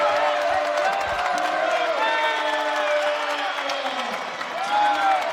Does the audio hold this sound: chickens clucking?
no